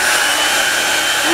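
A MONOMONO hair dryer blows at close range, a steady loud airy hiss with a faint whine, heard alone without talking for just over a second.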